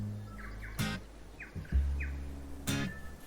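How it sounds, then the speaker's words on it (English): Birds chirping in a train set simulator game, a few short high tweets and calls over a low steady hum, fairly faint with no talk. "just the birds singing"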